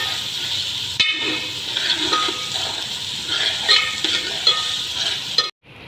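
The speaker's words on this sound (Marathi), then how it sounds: "त्याच्यानंतर आपण कांदा टाकूया, कांदा टाकला, आता चांगला फ्राय करू त्याला" Onion frying in a pan gives a loud, continuous hissing sizzle with small crackles and stirring scrapes, which stops abruptly just before the end.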